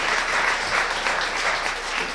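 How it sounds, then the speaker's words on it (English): Steady applause from a community event audience, continuous dense clapping throughout, with no speech over it. "Let's give them a round of applause because we really appreciate your work."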